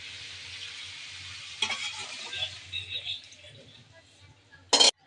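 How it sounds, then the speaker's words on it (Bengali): Broth goes into a pan of frying taki fish with a soft hiss and bursts of stirring sizzle, then quiets. A sharp metallic clink of a utensil sounds near the end. "তো টাকি মাছ এগুলো কষানো হয়ে গেছে, আমি ঝোল দিয়ে দেবো।"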